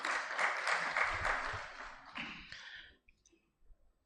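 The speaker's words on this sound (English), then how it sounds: "I think that one also deserves a clap." A short burst of applause from a crowd that swells briefly and then dies away, followed by near silence with a couple of faint clicks.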